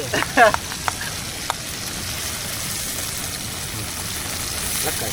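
Onions sizzle and fry in a pot over an open fire on rocks beside a waterfall, a steady close hiss with a few brief clinks near the start.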